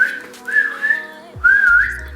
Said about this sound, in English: But can you whistle?